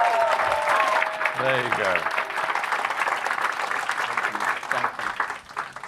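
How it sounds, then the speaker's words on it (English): An audience at a fireside chat gives a round of applause, steady clapping that holds for several seconds and tapers at the end, with someone speaking briefly over it near the start. "So do you want to give him a round of applause?"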